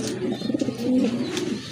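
Pigeons at a pigeon sale coo in a soft, rhythmic throaty burble, several repeated low notes close by, with faint chirps and background noise.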